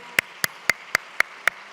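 Steady, evenly spaced hand claps during a Sunday church service, about seven sharp claps in a regular rhythm, close by and moderately loud with no talking.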